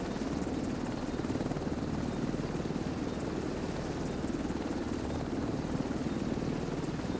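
Extraction helicopter in The Division 2, a steady loud rotor drone with dense chopping thrum that holds evenly throughout, no voices over it.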